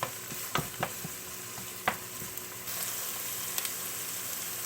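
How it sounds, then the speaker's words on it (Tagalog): Onions and ginger sautéing in a pan, a steady close sizzle with scattered clicks and scrapes of a stirring utensil, growing slightly louder midway, no talk. "Alam po natin to halo-haloin. Hanggang lumambot po yung sibuyas natin at maluto yung ginger."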